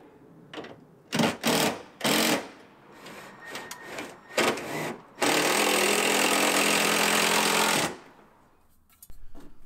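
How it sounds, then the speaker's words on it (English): A heat gun shapes material while fitting an entryway upgrade, its steady, loud whooshing hum running for about three seconds after several shorter bursts of noise, then cutting off abruptly. "That heat gun did such an awesome job."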